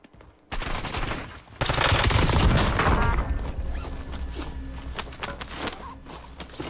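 Gunfire in Call of Duty Warzone: a dense, loud burst of rapid automatic shots rattles on for several seconds, then thins into scattered shots, with no talking.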